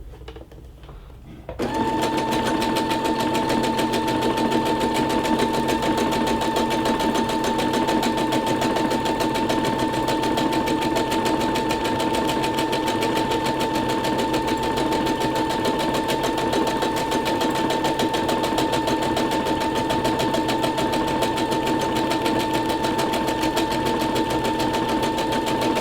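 A Brother SE625 sewing machine stitches a decorative pattern, running steadily and loudly for about 24 seconds with a constant whine and a fast mechanical chatter after a brief quiet start; no one talks.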